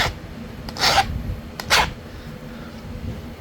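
A Mookaite flint projectile point is abraded to sharpen its edge, with two short, gritty rasping strokes close by over a quiet background.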